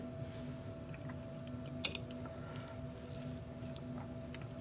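Quiet, close chewing of fried potatoes with onions, soft wet bites and a brief louder crunch midway, over a steady low hum with no talk.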